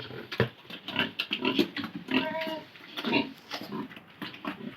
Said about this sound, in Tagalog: Tapos ito yung pangalawa na baboy, si Tanggol, maliit pa, 1 buwan pa lang siya.